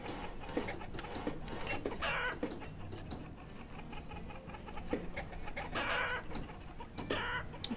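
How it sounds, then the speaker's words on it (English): Chickens clucking in the town-building video game Banished, repeated busy clucks and squawks over a continuous farmyard ambience, fairly loud and with no talking. "Chicken noises."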